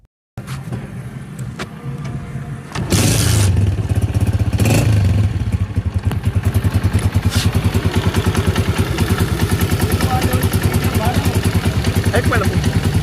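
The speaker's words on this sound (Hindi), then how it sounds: "इस बाइक का साउंड टेस्ट करते हैं" A 2024 Honda 125 motorcycle starts after a short pause and settles into a loud, close, rapid single-cylinder idle thump, steady and clattery, with a brief blip of revs early on.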